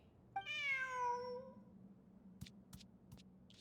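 A cat meows once, a clear rising-and-falling cry in the video game Genshin Impact, followed by a few soft clicks over a low steady hum.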